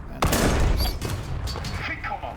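Tank gun fire in War Thunder from a Strv m/41 S-II: a sharp, loud blast opens the clip, followed by a rumbling, sustained roar of battle noise and engine sound that fades slightly over about two seconds.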